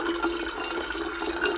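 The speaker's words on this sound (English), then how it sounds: "have water spilling all over" Water spilling while coffee is being prepared, a steady splashing, trickling pour that runs continuously at close range with no talk.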